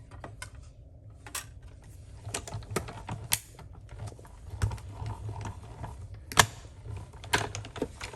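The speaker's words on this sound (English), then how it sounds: "for this one, we're just gonna cut out the die" A die-cutting machine cuts a shaker-card die, giving a run of dry clicks, taps and small mechanical knocks at close range with no talk.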